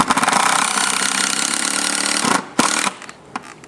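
A power drill drives a long screw into a steel door hinge, a loud continuous whirring grind lasting over two seconds before stopping abruptly, followed by a few short clicks and bumps.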